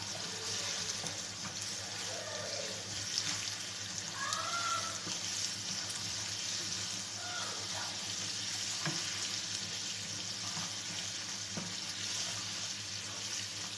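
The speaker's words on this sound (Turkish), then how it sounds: "Şimdi 2 yemek kaşığı kadar tereyağımızı ekliyoruz. Tereyağımız eriyene kadar karıştıracağız." Butter stirred into melted sugar in a pan for trileçe caramel gives a steady, moderate sizzle and bubbling hiss, with occasional soft scrapes of the stirring utensil and no voices.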